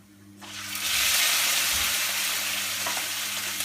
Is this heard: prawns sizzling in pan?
yes